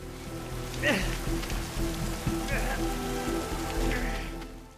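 Steady heavy rain hisses across the whole clip, with low rumbling beneath and a few faint voice-like sounds rising through the downpour.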